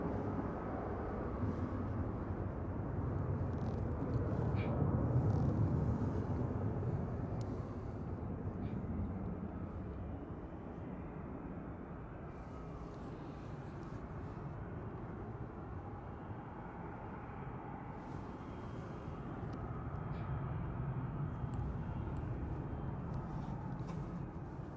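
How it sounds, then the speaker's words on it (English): A Ryanair Boeing 737-800 departing Manchester Airport makes a distant, muffled jet rumble that swells and fades gently across the span, fairly faint throughout. "Ryanair 3222 to Brussels Charleroi departing there"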